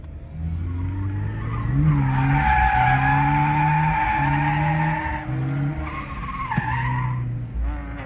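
A stock Subaru BRZ drifts on a track, its tyres squealing in long wavering bursts over a revving engine, loud and close, with brief pauses between slides.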